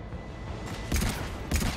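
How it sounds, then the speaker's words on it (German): Gunfire in the video game Mass Effect 3, with two short bursts of shots cracking out over a quiet background within about a second of each other. "Wo kam dieser Schuss gerade hin?"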